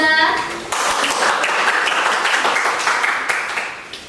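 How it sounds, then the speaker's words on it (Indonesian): A classroom group claps for a presenting group after their presentation, a burst of dense applause that sets in suddenly and carries on steadily before tapering off. "kita berikan tepuk tangan untuk kelompok 2."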